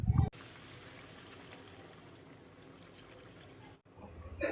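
Water poured into a pan of sautéed potatoes while cooking fish roe curry: a steady, close pouring rush that runs for several seconds, bracketed by brief sizzling noises at the start and end.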